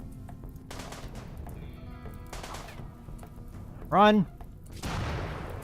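In the video game RimWorld, a few short, fairly quiet gunfire bursts sound, along with a brief high whinny-like cry, while someone talks throughout.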